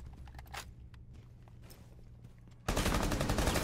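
Rainbow Six Siege gunfire erupts suddenly into a sustained loud burst of rapid shots after a few seconds of scattered clicks and quieter in-game movement sounds.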